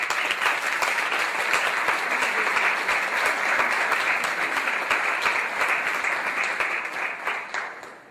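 A conference audience gives a keynote speaker a warm welcome with dense, sustained applause, many hands clapping at once close by and at steady strength, then thinning and fading at the end.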